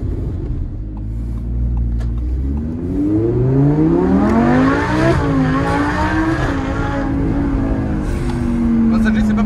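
An Audi R8 V10 of 670 hp descends a mountain road toward La Turbie, its engine note rising and falling in loud, close sweeps as it revs and shifts. Heard from inside the car, with a steady low rumble throughout.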